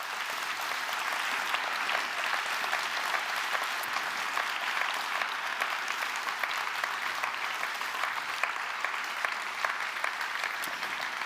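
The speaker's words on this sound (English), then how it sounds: "Let's give them a final round of applause." A crowd at an awards ceremony applauds regional winners in a steady, even wash of clapping that holds at moderate level from start to finish, with no voices over it.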